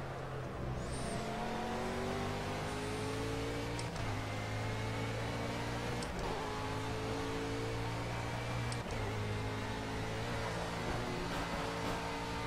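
GT3 race car engine at Donington Park in the racing game Project CARS, a steady loud engine drone with rising and falling pitch as the car works through gear changes and revs over the lap.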